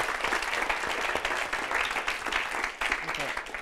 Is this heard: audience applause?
yes